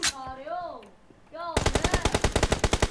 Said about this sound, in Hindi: ये ले फायर कर दिया